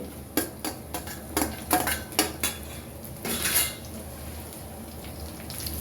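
Green chilies tossed into a pan of browning sliced onions, a run of sharp metallic clinks and knocks of a utensil against the pan followed by a brief soft sizzle, close with no voices.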